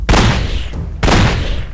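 Two loud, close gunshots ring out in a Minecraft zombie-defense game, each a sharp boom followed by a rumbling decay, spaced about a second apart.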